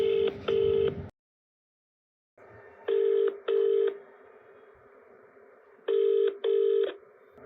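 A telephone places a call: two quick dial tones, a short silence, then paired ringing tones repeating steadily over a low line hiss, with no voices.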